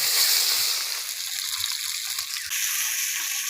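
Fish sizzling in hot oil with turmeric and ground spice, a steady bright hiss and crackle with faint bubbling, continuous and fairly close, without talk.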